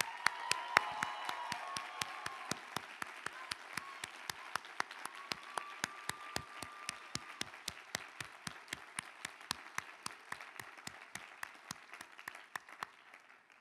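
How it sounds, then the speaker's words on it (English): Sustained applause from a convocation audience honoring outstanding faculty and staff at the 2019 Harvard Chan ceremony, a steady wash of many hands with sharp rhythmic claps standing out, lasting throughout at moderate distance. "please join me in applauding these outstanding faculty and staff"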